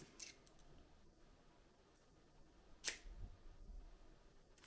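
Scissors make a single sharp snip trimming the end of a photographic film roll during film developing, a brief crisp cut over quiet room tone, with faint handling noises around it.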